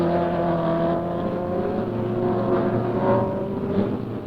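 Car number 19 launches at the start of a 1972 hill climb run on Knox Mountain in Kelowna, its engine droning loudly and steadily with rising and falling revs over several seconds.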